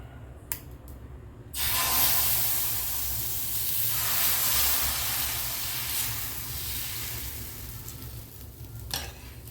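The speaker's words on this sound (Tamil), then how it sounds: "தோசை ஊற்றிடலாம். கல் காஞ்சிடுச்சு." Ragi dosa batter is poured onto a hot griddle and sizzles loudly at close range, a steady broad frying hiss that starts abruptly and slowly fades, heard alone without talk.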